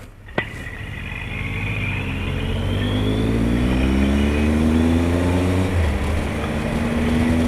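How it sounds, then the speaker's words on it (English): A car approaches and passes on a road in rural Normandy, its engine note swelling and sliding steadily lower as it goes by, heard loud and close with no talk. "There's a car coming."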